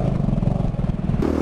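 A Yamaha Tenere 250 motorcycle engine accelerating close by, a steady throbbing mid-pitched drone with rough, pulsing exhaust texture that rises slightly near the end of the short burst.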